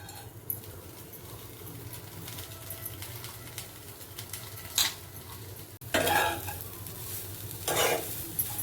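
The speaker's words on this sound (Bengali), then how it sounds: "তো এরপর আমি কড়া বসিয়ে দিয়েছি নারকেলটা ভাজার জন্য নারকেলটা ভেজে নেবো" Grated coconut frying in a hot kadai, a soft steady sizzle with scraping and clinking as a spatula stirs it against the metal, louder stirring strokes coming in bursts near the end.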